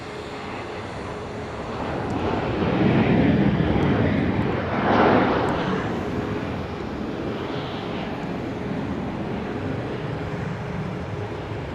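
A Southwest airliner roars past on landing at Dallas Love Field, a broad jet rumble swelling to a peak midway and then fading into a steady distant hum, with no talk.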